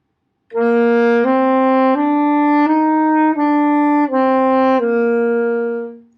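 A single sustained alto saxophone melody moves smoothly from note to note without breaks, one connected two-measure slurred phrase with only the first note tongued, steady and close.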